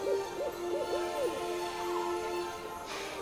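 An owl hoots several times in a wavering, breathy series, followed by a long held hoot, all over a steady background hiss with no voices.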